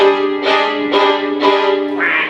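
A voice imitates duck quacks, four loud nasal quacks in a slow, even rhythm, close up.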